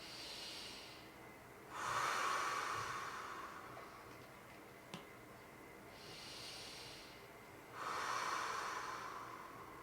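Slow, deep breaths during a seated yoga twist, each inhale and long exhale rising as a soft airy rush, about three audible cycles close up and unhurried, with no talking.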